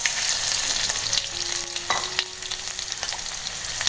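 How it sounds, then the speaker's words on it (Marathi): Garlic dropped into hot oil already crackling with mustard seeds, a steady loud sizzle and spatter filling the pan, with a brief clink of a spoon partway through and no talking. "आता आपण टाकूया त्यात लसूण."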